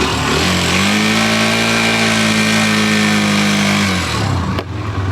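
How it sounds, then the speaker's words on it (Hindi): A Hero Xtreme 160R 4V motorcycle engine fires up close by and is revved, holding a steady, rising drone for several seconds before dropping back to a lower idle near the end. "अब एक बार हम आपको सुना देते हैं अपनी नई एक्सट्रीम 4V का साउंड"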